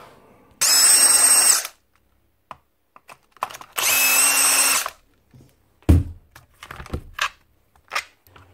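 A Bosch RH540M rotary hammer motor runs on test in two loud, close bursts of about a second each, with clicks and handling knocks between and after them.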